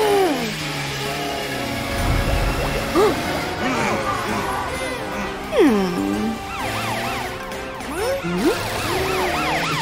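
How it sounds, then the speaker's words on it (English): Cartoon fire truck sirens wail and warble in overlapping rising and falling sweeps through busy traffic. The sirens are loud and continuous, with some low rumble beneath them. "Use your sirens so cars can let you pass."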